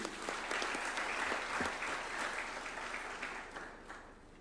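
An audience at a judges' swearing-in ceremony at State House, Nairobi gives a round of applause, a soft, distant wash of many hands clapping that holds steady and slowly tapers off toward the end.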